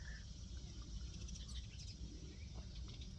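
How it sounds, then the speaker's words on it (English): Small birds twitter faintly in the distance outdoors, scattered high chirps over a steady low rumble of background noise. "those little birds are twittering behind me"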